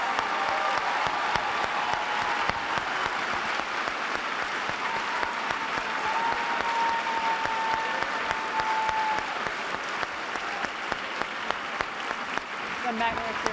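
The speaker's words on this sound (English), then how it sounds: "Let's give them a round of applause" Applause from a large keynote audience at a business conference, sustained clapping filling the room for over thirteen seconds with cheers and voices mixed in.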